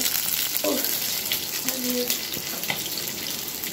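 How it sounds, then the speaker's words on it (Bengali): Round slices of eggplant fry in a pan with a steady, dense sizzle and hiss that holds at an even level throughout, with faint kitchen sounds underneath. "একটা বেগুন এদিকে গোল গোল করে ভাজি করছি"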